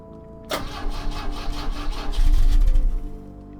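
An engine cranks without firing in The Drifter, a loud grinding starter motor turning over for a few seconds, building in rumble before dying away.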